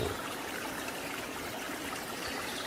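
A river flows along its rocky bank in a steady, broadband rush of moving water, continuous and fairly close throughout, with no voices.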